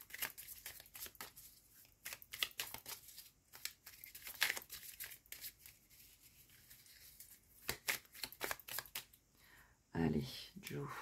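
Tarot cards shuffled for a three-card draw, with repeated papery riffles and rustles close by, a louder flurry near the end, and talk heard in between.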